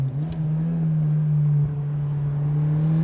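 A turbocharged Mazda Miata engine on a race track drones loud and close, its steady note holding with little change through the lap.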